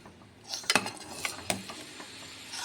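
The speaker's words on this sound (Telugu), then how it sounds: "ఇప్పుడు మొత్తం ఉండలు లేకుండా మొత్తం అంతా కూడా ఈ విధంగా మిక్స్ చేసుకుంటున్నాం" Homemade dry fruit custard mixture stirred in a pan over a low flame, a spoon scraping and clinking against the metal in a few sharp knocks amid soft swishing, close and fairly quiet.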